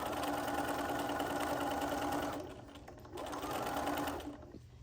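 A sewing machine stitches binding onto a cross stitch pillow in a steady fast hum, pausing briefly in the middle before running again, then stopping near the end.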